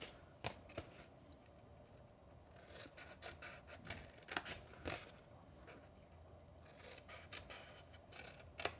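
Scissors cut paper to make a small gift treat box, giving quiet, close snips and crisp paper rustles scattered irregularly in a faint room.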